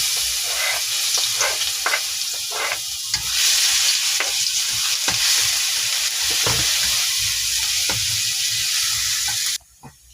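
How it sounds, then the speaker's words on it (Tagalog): Garlic and other ingredients sautéing in a hot pan, the steady oily sizzle broken by repeated scraping stirs, loud and close, before cutting off abruptly near the end. "So, magigisa muna tayo mga kalabs ng ating sangkap."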